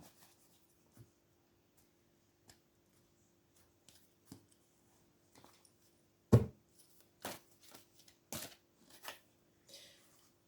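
Tarot cards being shuffled by hand, soft scattered riffles and taps close by in a quiet room, with a few sharper bursts of shuffling toward the end and no voices.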